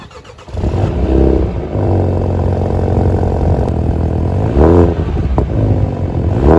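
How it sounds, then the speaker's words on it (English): A BMW X2 M35i engine idles loudly and unevenly close by after a cold start, with a brief rev near the start and another swell later, running steadily throughout. "Just did a cold start. You can hear that here."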